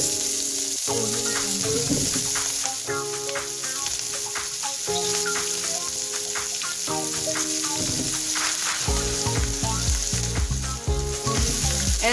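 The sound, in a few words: Brussels sprouts sizzling in melted butter in pan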